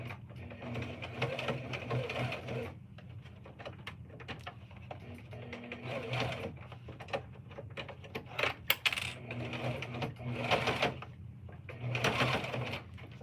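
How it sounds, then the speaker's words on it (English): A home sewing machine stitches through thick fabric, its motor running steadily close by in bursts with short pauses, accompanied by rapid ticking needle strikes. "My machine keeps on like skipping stitches if it's too thick"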